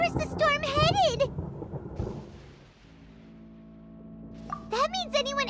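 Thunder rumbles during a storm in Genshin Impact, a low broad roll swelling in the middle and fading, framed by voiced game dialogue at the start and end.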